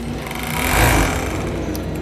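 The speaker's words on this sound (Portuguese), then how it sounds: "segura a linha do overlock, fica aqui por dentro, segura. Aqui você acerta a barrinha também e vamos costurar." An overlock sewing machine stitches pet clothing, a close, fast, steady mechanical whir with a rapid buzzing rhythm that swells slightly midway.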